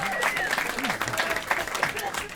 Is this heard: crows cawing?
no